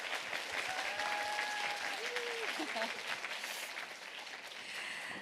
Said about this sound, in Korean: 우리 수고해주신 강사 목사님께 다시 한번 뜨거운 박수 부탁드립니다